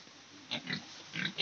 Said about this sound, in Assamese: এইফালে আছে গাহৰি